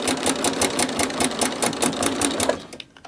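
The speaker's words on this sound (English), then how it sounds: "I'm going to do a back stitch." Domestic sewing machine running a back stitch on a pleated oven towel, a loud, close, rhythmic mechanical chugging at a steady pace that slows and stops near the end.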